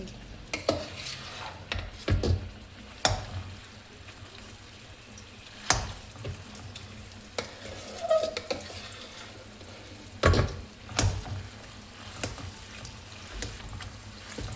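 Ragi flour mixed with ghee stirred and roasted slowly over low heat in a pan for ratnaale halwa, with scattered spoon scrapes and clinks against the pan over a soft background, no talking.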